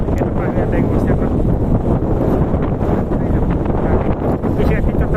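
Strong, gusty wind buffets the microphone at an open-water fishing spot during heavy rain, a loud continuous roar with muffled voices mixed underneath.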